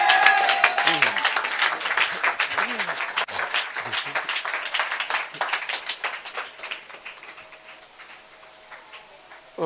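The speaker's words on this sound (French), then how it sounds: "Acclame la parole de Dieu." A church congregation applauds in praise, a dense burst of clapping with short voices calling out over it, loud at first and then thinning and fading toward the end.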